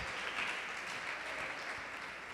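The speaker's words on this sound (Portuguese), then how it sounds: "Pode aplaudir e glorificar o Senhor Jesus." A church congregation applauds in a steady, dense wash of clapping at a faint, distant level, with no individual claps standing out.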